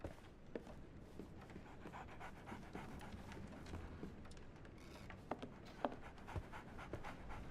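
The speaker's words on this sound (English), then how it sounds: "So, Barnes has a dog now." A dog in a video game pants in steady quick breaths throughout, quiet and close, with occasional soft taps and clicks over the top and no talking.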